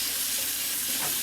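Steady, dense sizzling of frozen shrimp frying in a hot pan, a continuous crackling hiss with no pauses.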